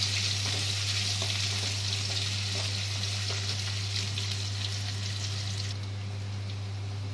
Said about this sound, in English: we are adding the cut onions to that and salt well to cook the onion